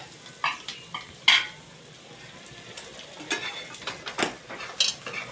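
Onions and mutton cook in a pan for a spicy Kolhapuri-style curry while being stirred, with a soft steady sizzle and occasional scraping and clinking of the spoon, close by and moderately quiet.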